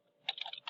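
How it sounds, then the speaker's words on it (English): Typing on a computer keyboard, a brief flurry of a few rapid key taps, close and fairly clear with no voices. "the first thing you're going to do is type your heading"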